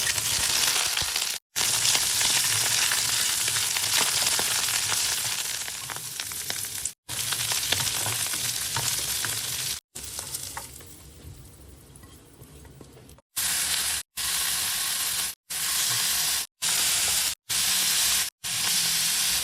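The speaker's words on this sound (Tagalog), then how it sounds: "una ko niluto yung mushroom. So, sinir ko lang siya ng ilang minuto." Mushrooms searing in a hot pan after marinating, a loud steady sizzle and frying hiss filling the whole stretch, broken by several brief dropouts to silence and a quieter patch midway.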